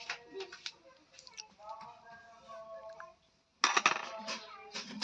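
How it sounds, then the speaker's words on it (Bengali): A spoon clinks and scrapes against a bowl while milk powder is mixed into cake batter for a stovetop orange cake, in short irregular bursts with brief pauses, close and fairly quiet, with a voice speaking over it. "দুধটা ভালো করে মিশিয়ে নেব।"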